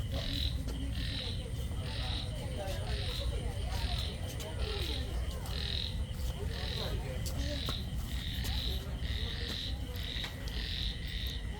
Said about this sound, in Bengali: এখানে ব্যাঙের ডাক হচ্ছে, দেখেছো?